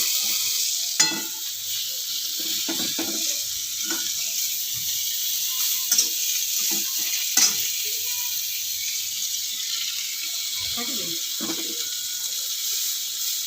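Okra, eggplant and tomato frying in a pan, a steady sizzle throughout with occasional stirring scrapes and clicks, close and fairly quiet.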